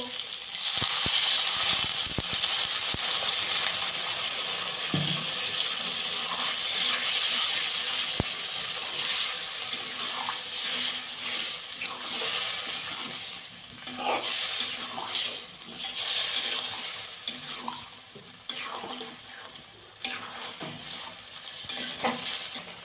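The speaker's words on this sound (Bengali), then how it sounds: "এবার জল দিয়ে দেবো" Water pours into a pan of meat curry cooking on the stove, setting off a loud, steady sizzling hiss that fades somewhat over time, with scattered stirring scrapes and clinks close by.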